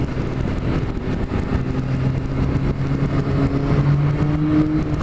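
A 1989 Yamaha FZR 1000 motorcycle engine runs close by, its steady low drone lifting in pitch as it revs, heard on its own without talk.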